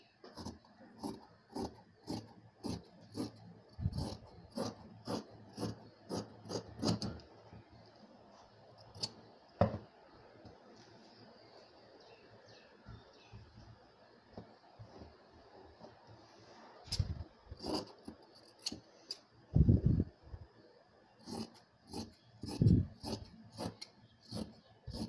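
Scissors snip crosswise through plain blouse fabric to cut a 1-inch bias strip for a neckline, in close, crisp bursts of rapid cuts separated by quieter pauses of handling cloth.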